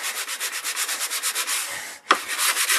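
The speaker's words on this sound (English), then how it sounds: "use the sanding block to sand up some of the wood" A sanding block is rubbed back and forth over wood, making rapid, even rasping strokes close by, with a short pause and a bump near the end before the scrubbing resumes.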